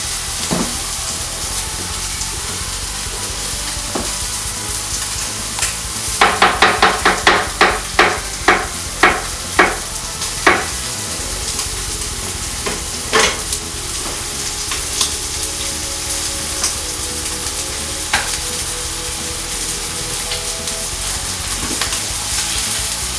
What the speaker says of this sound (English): move your mushrooms around because these do like to tend to stick to hot surfaces